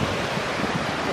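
Wind buffets the microphone over a soft wash of surf on Panama City Beach during a walk along the shore, a brief, fairly loud rush of broadband noise with no voices.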